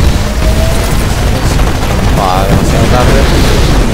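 Explosions and battle noise from the Titanfall video game, a dense continuous roar of blasts and gunfire with someone talking over it.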